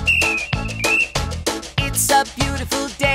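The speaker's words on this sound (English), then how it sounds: "Wait to hear the whistle blow and we'll be on our way." Cartoon train whistle in a children's learning show about train adventures: a clear, sustained high toot rising over bouncy, loud music with a steady rhythmic beat, sounding twice briefly, no talk.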